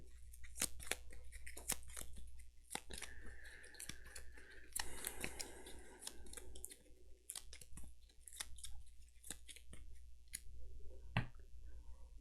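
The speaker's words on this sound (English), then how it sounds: "Shuffling needs to happen." Gloomhaven game cards being shuffled by hand, a run of crisp clicking and riffling bursts with brief pauses, close up and fairly quiet, with no talking.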